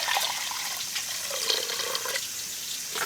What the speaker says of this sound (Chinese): 我用这淘米水洗香肠